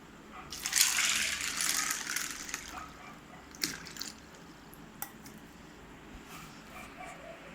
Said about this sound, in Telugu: వాటర్ వేసి నానబెట్టుకుందాము.